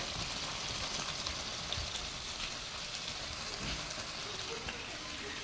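Meat frying in oil on a wood-fired stove gives a constant, even sizzle. The hiss is dense and moderately quiet, with scattered small pops and no talk on top.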